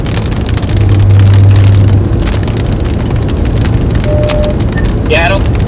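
Hail and heavy rain drum continuously on a car during a supercell storm in Kansas, a loud dense roar under wind buffeting, with brief faint tones near the end.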